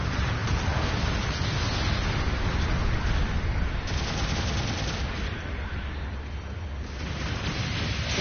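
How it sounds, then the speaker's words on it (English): Long-range support fire in a Gundam mecha game, a steady, loud wash of rumbling barrage and rapid shots that roars on without pause, with brief flare-ups along the way. "Long-range support fire incoming."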